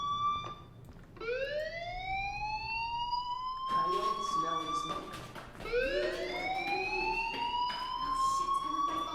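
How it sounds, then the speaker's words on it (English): A rising and wailing fire alarm in the video game Life Is Strange sounds in repeated sweeps, loud and insistent, with voices and background chatter underneath. "Hey, do you hear that fire alarm? That means you should be outside."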